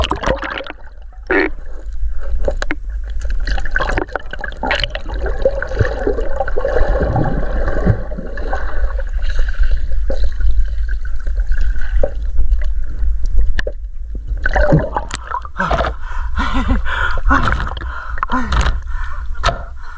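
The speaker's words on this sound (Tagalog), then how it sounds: "Grabe, lakas ng agos." A strong river current rushes and churns around a boat at night, loud and continuous with gurgling and sloshing water close by and brief low voices mixed in.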